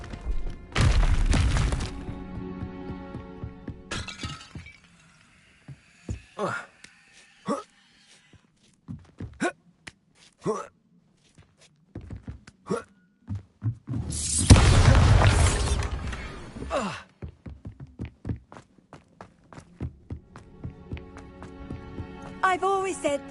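Bombarda blasting spell explosions in the Hogwarts Legacy video game, two loud booming bursts with crackling debris between scattered thuds and impacts, alongside character speech.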